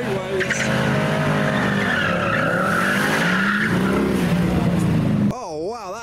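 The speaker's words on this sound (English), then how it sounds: "There is a burnout happening." A car doing a burnout at a UK car show, tyres skidding and squealing loudly and continuously over a revving engine, with a crowd nearby and other vehicle sounds before a warbling tone cuts in at the end.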